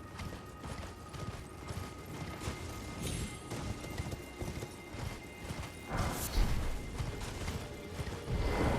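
Horse hooves clip-clop at a steady trot in Elden Ring, fairly quiet beneath low game ambience with occasional metallic clanks and a louder thump near the end.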